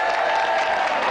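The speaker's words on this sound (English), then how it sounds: "Round of applause for our brave volunteer." A studio audience applauds steadily for a volunteer on the TV game show Gamesmaster, a dense wash of clapping hands filling the whole moment without a break.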